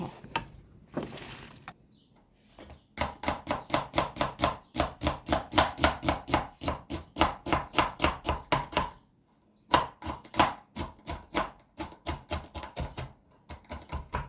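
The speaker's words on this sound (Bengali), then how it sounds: "আমার এই চপিং বোর্ড দিয়ে পেঁয়াজ রসুন এগুলো কাটলে আবার তাড়াতাড়ি করে কাটা যায়" Quick, regular knife chops strike a chopping board as onion and garlic are cut, a dense run of sharp taps with a short pause midway, close and loud with no talk.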